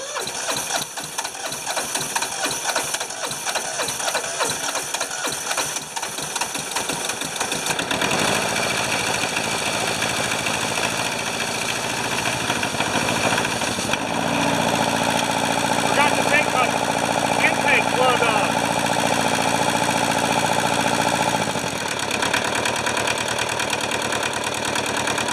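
A Hinomoto tractor engine is cranked by its starter and then runs, a rapid grinding crank giving way to a steady, close, loud rhythmic idle.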